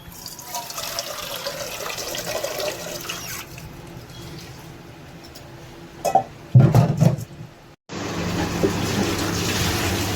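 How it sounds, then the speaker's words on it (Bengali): Soaked polao rice for a chicken polao is strained and shaken in a kitchen, with a steady wash of running water throughout, a brief louder splashing burst, then a short drop to silence before the flow resumes. "আম্মু এখন ঝাঁকাতে এগুলো ছেঁকে নিচ্ছে পোলাওয়ের চালগুলা।"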